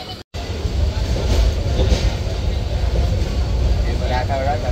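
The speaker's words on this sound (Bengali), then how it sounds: "ছেড়ে যাচ্ছি ব্রাহ্মণবাড়িয়া রেলওয়ে স্টেশন।" The Mohanagar Express rolls out of Brahmanbaria railway station late at night, a loud continuous low rumble of wheels and carriages with rattling, after a brief cutout at the start; someone talks over it.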